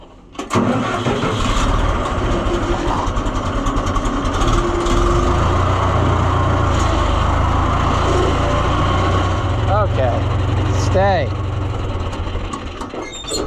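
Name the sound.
tractor engine running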